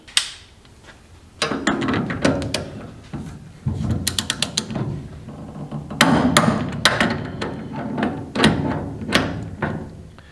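Bolts being torqued to 75 foot-pounds on a classic Ford Mustang front disc brake conversion, a series of sharp metallic clicks and clacks from the wrench in several bursts, close and fairly loud, with no talking.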